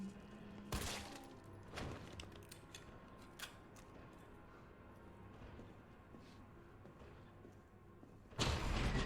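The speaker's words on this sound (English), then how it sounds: "Let's bring out the old pistola." Pistol shots fired in Resident Evil 3, a few sharp isolated cracks spaced a second or more apart over low game ambience, with a louder burst at the end.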